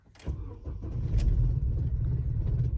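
An Opel Zafira A, cold and misfiring on its cylinders, cranks and fires into a low, uneven idle that stays close and moderately loud after catching.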